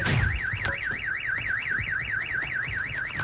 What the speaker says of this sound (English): Why is this car alarm going off?